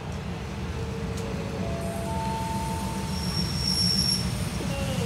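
Diesel railcar train on the Bangkok–Hua Hin route pulling into Ban Pong station in Thailand, with a loud, steady rumble of wheels on rails and thin high-pitched wheel squeal throughout, no voices.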